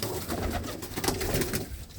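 A pigeon coos in short, throaty bursts, fairly close, repeating several times against a faint background rumble.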